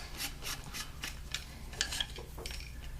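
A compact folding entrenching shovel is screwed together by hand, giving a soft, steady metallic rubbing and rasping with faint ticks, heard close and quiet throughout.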